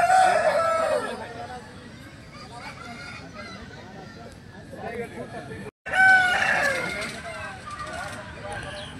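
A rooster at a busy chicken market crowing loudly nearby, twice with a pause between, over a background of crowd chatter and people talking.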